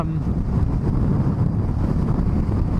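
Steady, heavy rumbling wind buffeting the microphone while riding a Triumph Street Triple R motorcycle on a dual carriageway, a constant low roar at speed with no pauses.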